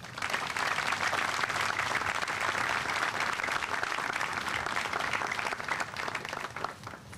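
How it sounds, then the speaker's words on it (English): Steady round of applause for the guests at a military change of command ceremony, a dense, even wash of many hands clapping that holds at full strength throughout, with no talk over it. "how about a big round of applause for all of our guests?"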